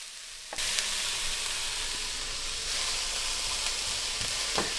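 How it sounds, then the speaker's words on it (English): Onions frying in a pan as a side for leftover sausages: after a quiet half second a close, loud sizzle bursts in and holds steady, with occasional stirring clicks and no speech. "So we're cooking up some onions for the sausages that we had left over from last night."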